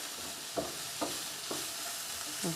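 Vegetables frying for a veggie satay stir fry, a continuous close sizzle broken by four evenly spaced scraping stirs of a utensil through the pan, with no talking.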